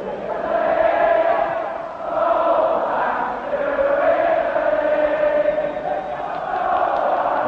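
A large football crowd at Liverpool in 1965 sings together in a sustained, swelling chant to the tune of Santa Lucia, echoing loudly across the stadium with no single voice standing out.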